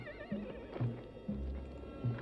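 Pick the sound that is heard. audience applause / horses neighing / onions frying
horses neighing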